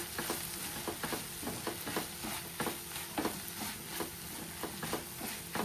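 Taro leaf curry frying in a pan, a steady near crackling sizzle broken by repeated soft scraping strokes of stirring throughout.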